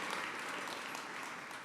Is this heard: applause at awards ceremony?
yes